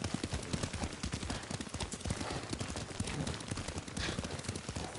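Rapid, busy hoofbeats of a galloping horse in the video game Ghost of Tsushima, fairly loud and continuous, with a dense rumble of other activity mixed in.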